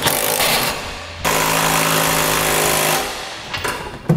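Power tool driving a 3/4 inch socket to snug down Curt trailer hitch bolts on a 2016 Jeep Renegade, loud mechanical whirring in two close bursts with brief clatter between.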